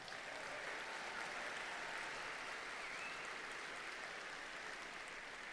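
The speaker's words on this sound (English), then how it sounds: "Let's give them a round of applause." Distant, even applause from a large arena crowd at a FIRST robotics state championship, thanking sponsor Hemlock Semiconductor, a constant soft wash of clapping with no clear peaks.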